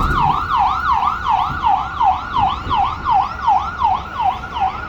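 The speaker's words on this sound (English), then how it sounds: "You'll hear the siren in the background." A loud wailing siren sweeps up and down in a rapid, regular cycle, close by, with traffic rumble underneath.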